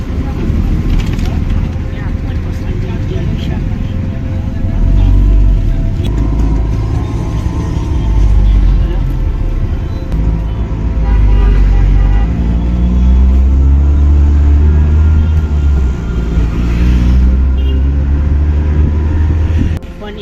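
Auto rickshaw ride near a mall in Vapi, with a loud, steady engine rumble and road noise throughout and the engine revving in a few places, while voices talk over it.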